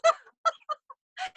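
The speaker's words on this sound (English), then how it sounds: "No, it's an actual rooster." A real rooster at Longfellow calls in a series of short, loud, close bursts of harsh, harmonic cries separated by brief silences.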